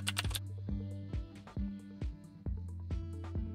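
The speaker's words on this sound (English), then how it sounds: "Type your text." Keys tapped on a computer keyboard, a string of distinct, evenly paced clicks close by and fairly quiet, with no talk.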